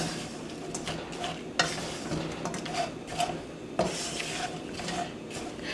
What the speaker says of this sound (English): continue to stir and mix the flour in with the tempeh